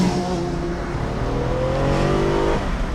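A rental sports car accelerates hard, its engine note climbing steadily in pitch as it revs up, loud and close throughout with no talking.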